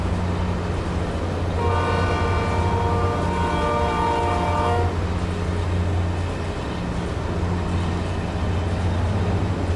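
A freight train in American Truck Simulator sounding a long multi-tone horn blast for a few seconds over a constant heavy engine drone and rumble, with no talk.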